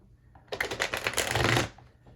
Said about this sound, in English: Now, I've already shuffled these. I'm going to try to shuffle them again